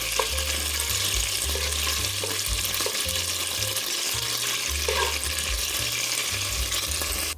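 Two tablespoons of butter melt in a beef stew pot and give off a steady, close sizzle. The frying hiss runs evenly for the whole stretch under low, shifting kitchen rumble.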